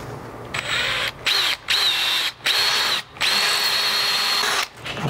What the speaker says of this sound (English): we're gonna start with the top holes, but those ones we're not gonna drill all the way in because it's a smaller screw.